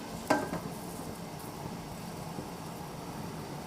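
Steady hissing and gentle bubbling from boiling water under a steamer pot of red sugar and jujube buns on medium-high heat, with a brief clatter near the start before the even steam noise continues.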